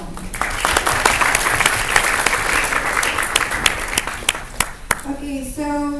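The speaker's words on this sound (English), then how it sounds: "Please give big applause to everyone." An alumni meeting audience breaks into sustained applause, dense clapping from a roomful of people. As the clapping fades near the end, a voice begins speaking.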